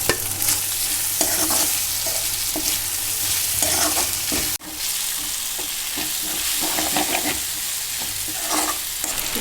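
Tomatoes tossed into a pan of sautéed onion, green chilli, ginger and garlic for a Tamil chicken curry, sizzling loudly and steadily while a spoon scrapes and stirs in repeated strokes, with one brief break midway.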